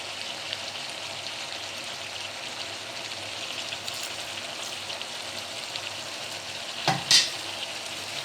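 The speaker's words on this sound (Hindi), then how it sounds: "इसके बाद फिर अच्छे से मिक्स करेंगे।" Chicken and bhindi (okra) with squeezed lemon juice sizzle steadily in a pan while being stirred, a soft continuous fry with a couple of louder scrapes near the end and no talk.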